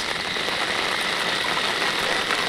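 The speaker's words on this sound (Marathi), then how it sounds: "पाऊस बघा नेमका आयत्यावर आला." Rain falls steadily during night fishing, an even dense patter close by that stays constant from start to finish with no talk.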